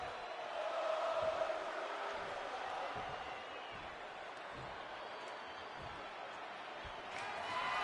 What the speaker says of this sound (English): This crowd is cheering wildly for Drew McIntyre.